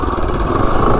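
A Predator 224 small engine with a swapped cylinder head running steadily at a brisk, even rev, loud and close with a buzzy mechanical drone and no talk.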